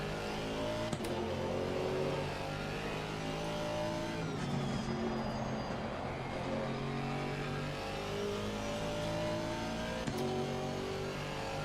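A GT4 race car engine in Assetto Corsa Competizione at Laguna Seca drones loud and steady throughout, its pitch rising and falling with throttle through the corners, with brief tire squeal mixed in.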